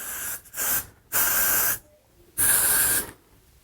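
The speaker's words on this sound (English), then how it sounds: "I'm gonna saturate the top of the hair, or the pieces that I haven't sprayed with hairspray." Hairspray is sprayed onto a wig in three loud, close hissing bursts, each lasting under a second, with short quiet gaps between them.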